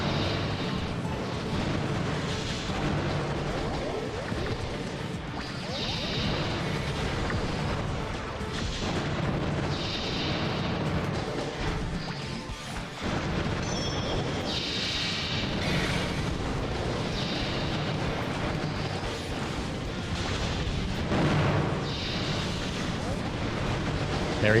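Repeated booming explosions in the Custom Robo video game, a dense run of blasts and crackling bursts lasting throughout, loud and layered with game sounds and a voice talking over them.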